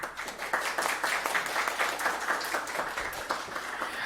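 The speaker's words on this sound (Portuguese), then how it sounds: "Uma salva de palmas." An audience at a workshop on passing the bar exam gives steady applause as a vice-president is called up, with many hands clapping evenly and moderately loud, without talk over it.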